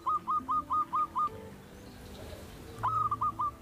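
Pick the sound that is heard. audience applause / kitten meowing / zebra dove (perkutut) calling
zebra dove (perkutut) calling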